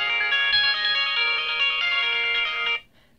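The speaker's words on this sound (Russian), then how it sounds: "Телефон прям орет очень громко." Smartwatch phone-finder setting a MASX Oasis X-paired phone ringing: a loud, steady electronic ringtone melody plays close up for nearly three seconds, then cuts off abruptly.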